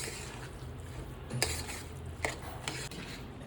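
Moong dal puran with jaggery stirred in a pan over a medium flame, a few soft scrapes and taps of the spoon against the pan over a steady low background, no talking.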